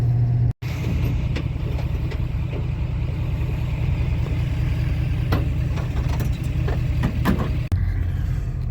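An International dump truck with a DT466 diesel engine pulls out on a frozen day, its engine a steady, loud low rumble with brief clicks and knocks over it.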